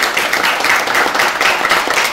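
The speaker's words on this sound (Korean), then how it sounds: "그 노력들을 위해서 한 걸음 내딛어 주신 여기 있는 분들께 정말 큰 박수를 보내고 싶습니다" Audience applause at a Korean film screening and director talk, a dense, steady wash of many hands clapping at once, close and loud, running the whole time with no voices on top.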